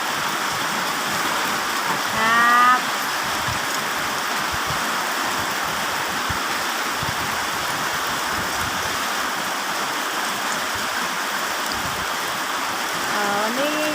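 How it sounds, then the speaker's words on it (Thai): Heavy rain with large drops pours down steadily, a dense loud hiss of water on surfaces throughout, with brief faint voices or tones rising over it near the start and end. "ก็เสียงฝนเม็ดใหญ่มาก"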